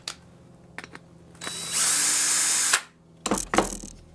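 A power drill whirs for about a second as a screw is driven into a gaffi stick kit, with short ratcheting clicks and handling knocks before and after.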